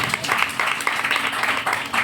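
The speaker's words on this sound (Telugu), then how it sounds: "చప్పట్లు కొడతాం గట్టిగా" A church congregation claps loudly in unison during a Sunday sermon, a short run of rhythmic, even hand claps filling the room.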